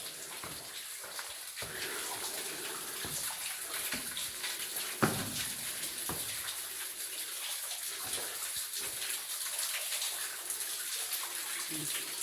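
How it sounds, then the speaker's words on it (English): Steady running spring water splashes and trickles throughout, a continuous wash of flow close by with faint voices in the background. "But here it is, kind of a spring."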